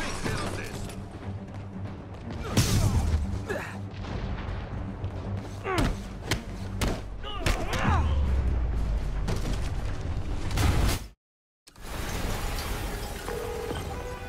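In the Marvel's Spider-Man video game, a building explosion brings a series of deep booms and sharp blasts over rumbling debris and effects, broken by a brief moment of silence before the noise resumes.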